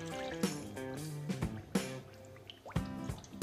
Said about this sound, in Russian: Заливаем подготовленное филе скумбрии.